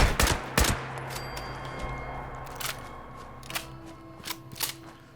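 Sharp separate gunshots ring out in Fallout 76 during a fight with Scorched outside a headquarters, loud at first and then sparser and fainter over a low ambient hum.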